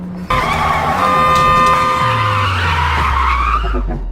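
Tires squeal loudly as a car skids to a stop in a film chase, a sustained screech with engine noise that falls in pitch and fades out near the end.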